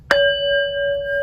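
A space-cleansing bell rests against something as it is struck once: a sharp clang, then two steady ringing tones that hold clearly without fading for over a second.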